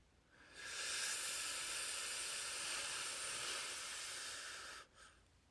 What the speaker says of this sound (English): take a deep breath in